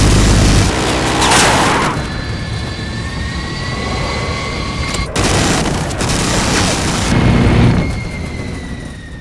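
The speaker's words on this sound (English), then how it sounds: "What do you think of this cannon sound recreation?" Realistically recreated cannon fire in the style of Top Gun Maverick: loud sustained bursts of rapid rumbling gunfire with jet engine whine and roar running beneath, a brief break near the middle, then another long burst.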